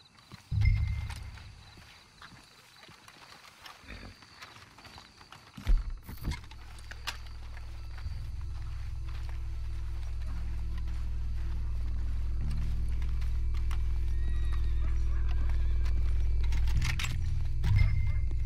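Horse hooves clip-clop along in the video game Red Dead Redemption 2, with scattered thumps and a low rumbling hum that grows steadily louder as the movement continues.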